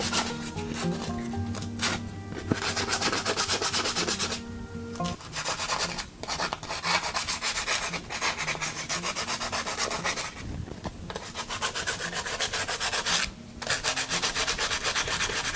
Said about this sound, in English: We have to clean off all the rust.